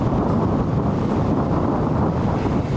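Strong wind gusts across an open disc golf course in Coppell, Texas, buffeting the microphone as a steady, loud, broadband roar with no pauses and no voices.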